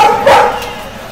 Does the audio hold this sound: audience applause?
no